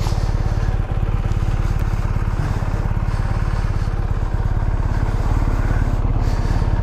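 A BMW GSA motorcycle idling steadily in neutral, its engine putting out an even, close, loud throbbing putter with a light clatter, running alone without talk.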